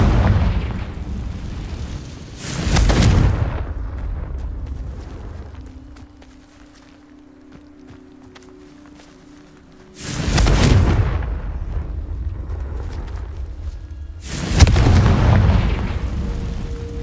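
Confringo spell explosions in Hogwarts Legacy, three loud booming blasts spaced several seconds apart, each a sharp burst followed by a rumbling tail, with quieter game ambience and tones between them and no talk.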